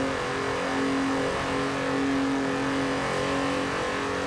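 A Volkswagen Golf 3 VR6 engine in Forza Horizon 4 hums steadily at high revs, a loud continuous drone with a sustained engine tone and no talking.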